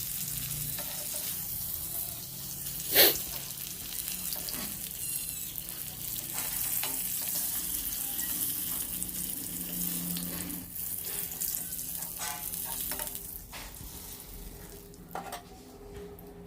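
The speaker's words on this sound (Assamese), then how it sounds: "এয়া মাছখিনি ভজা আমাৰ হৈ গৈছে" Rohu fish pieces sizzle steadily in hot oil in a home kitchen, a continuous soft frying hiss with occasional clinks of a utensil and one brief sharp knock early on, no talking.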